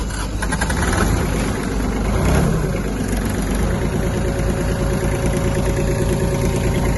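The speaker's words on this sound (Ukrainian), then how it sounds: "Заводиться трактор добре." A Kubota A-15 mini tractor diesel engine turns over and settles into a steady, rumbling idle nearby, loud and continuous with a mechanical vibration.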